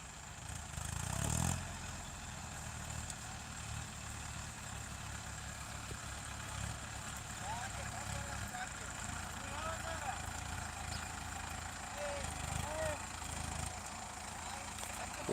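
A tractor stuck in a sugarcane field idles with a steady low engine rumble throughout, a louder thump near the start, while people talk over it.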